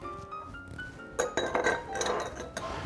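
A large ice cube dropped into an old fashioned glass, a bright clink followed by a few rattling knocks of ice against glass, close and clear with no voices.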